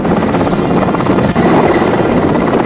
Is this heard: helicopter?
yes